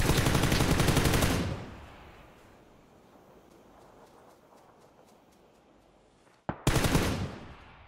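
Rapid automatic gunfire from a video game bursts loudly, fades into a quiet stretch with faint ticking, then a sharp crack and another loud burst of fire.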